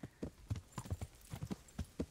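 Horse hooves clip-clopping along a town road in the medieval game Kingdom Come: Deliverance, a steady rhythmic series of close, distinct hoof strikes.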